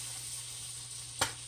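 Onions and shrimp in a pan over high heat, a steady faint hiss of sizzling with one short louder crackle near the end, close and without talk.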